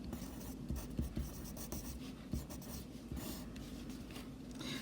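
Marker or chalk scratching on a board in a classroom lecture, with short strokes and taps in an uneven rhythm, close and moderately loud over a steady room hum, no talking.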